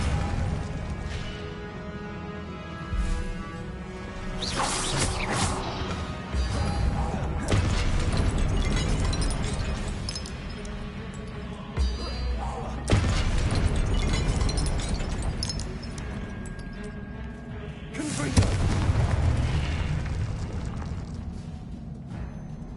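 Spell blasts and explosions from the video game Hogwarts Legacy, loud booming bursts and crashing impacts in repeated waves, each burst sharp at the start and then rumbling off, over a dense, continuous din.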